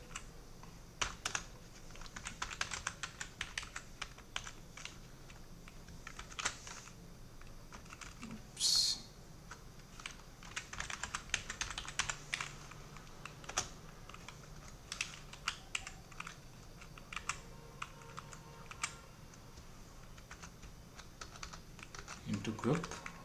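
Code typed on a computer keyboard, bursts of soft close key clicks in irregular runs with quiet pauses between them, the sounds standing alone.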